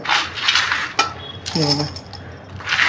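Orange sharbat premix ingredients are tipped into a steel mixer jar, giving a few bright metallic clinks and rattles against the jar with brief pouring rustles.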